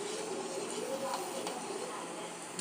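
Balls of pakoda dough bubble and fry in hot oil, giving a steady, dense sizzle at moderate volume that holds evenly throughout, with faint occasional ticks and no voices.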